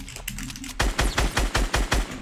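Rapid burst of gunfire in the video game Fortnite, about seven loud, evenly spaced shots in quick succession after a short lead-in, with no talking.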